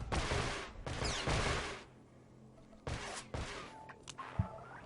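Several loud bursts of blaster gunfire from Star Wars: The Old Republic, a cluster of rapid shots, a pause, then more shots with a brief ringing tone, close and alone.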